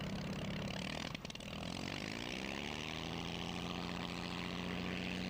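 A pre-First World War German Albatross B-2 reconnaissance biplane replica flies past at an air show, its propeller engine droning steadily and loudly, with a brief dip in pitch before settling into a steady tone.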